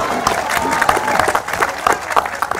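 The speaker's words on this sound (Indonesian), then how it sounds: "Tepuk tangannya mana yang kenceng dong." An audience claps and cheers at a public talk in Indonesia, a dense, steady wash of clapping with scattered shouts that carries on loudly for the whole stretch.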